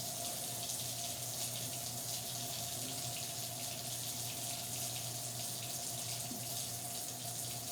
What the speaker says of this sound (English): And so you can see the water going.